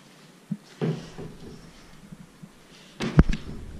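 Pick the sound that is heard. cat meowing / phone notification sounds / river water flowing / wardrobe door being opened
wardrobe door being opened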